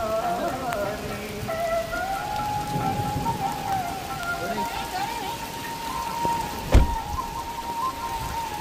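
Heavy rain pours near a bus stop and parking area below the Swarnagiri hill temple at Yadagirigutta, a dense, continuous hiss with a sustained tone running through it and one sharp thump near the end.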